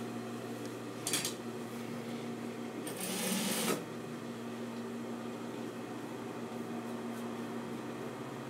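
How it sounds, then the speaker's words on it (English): A sewing machine stitching a coat hums quietly and steadily in the background, with a couple of brief louder whirring bursts as the machine speeds up. "It's me sewing."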